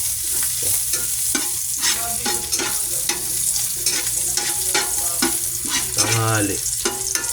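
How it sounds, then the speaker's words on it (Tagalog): Garlic fried rice frying and being stirred in a pan, with continuous sizzling and repeated scraping and tossing strokes, and a person speaking briefly over the cooking. "Sasangag ko lang tong kanin."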